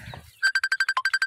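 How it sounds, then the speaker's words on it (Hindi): A phone ringtone from an incoming call sounds outdoors beside a mustard field, a loud, close electronic tone pulsing about ten times in a steady, rapid rhythm, with a brief bit of background noise before it starts. "देखिए फोन करने वाले फोन कर रहे हैं सब लोग यार"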